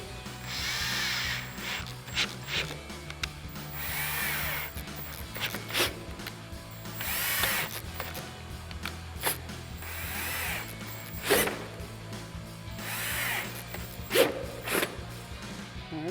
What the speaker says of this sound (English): we're gonna drill holes for our riv nuts along those marked spots for our trim